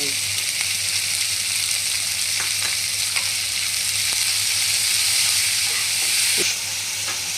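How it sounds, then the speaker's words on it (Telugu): Onions fry with salt in a pan, giving a loud, dense, continuous sizzle and hiss close by, with a few faint clinks and a low hum underneath. "ఆనియన్స్ వేగడానికి సాల్ట్ వేసుకుందాం"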